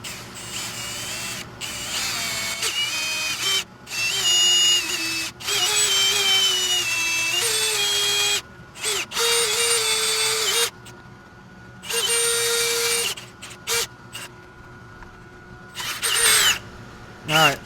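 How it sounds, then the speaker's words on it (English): Power drill boring through the metal of an OBS Chevy truck during an IRS swap, repeated loud close bursts of whining with pitch dropping as the bit bites, separated by brief pauses. "Now I'm going to go ahead and drill"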